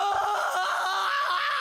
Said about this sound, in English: The scream had escaped my throat before I understood what I was looking at.